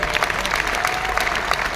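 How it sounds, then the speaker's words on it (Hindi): Audience applause at an RCM business meeting, a loud, continuous patter of many hands clapping together in a hall, steady and close throughout the short burst. "एक बार जोरदार तालियां हो जाए।"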